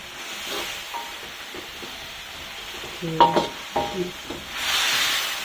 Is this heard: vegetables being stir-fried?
yes